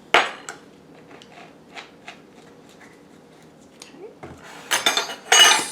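A spoon stirs lemon juice into blackberries in a bowl for a keto blackberry cobbler, making soft scrapes and light clinks against the bowl that build to a brief burst of clattering near the end.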